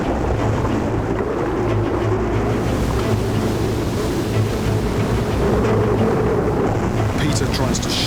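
A churning ocean surge swirls around divers in rough coastal water, a loud, continuous rushing and sloshing of waves with wind buffeting, while a voice speaks over it.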